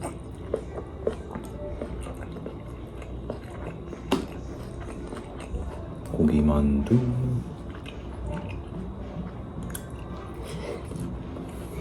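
Someone chews steamed shrimp dumplings close to the microphone with soft, wet, squishy bites against a steady background, and a brief louder burst of noise comes midway.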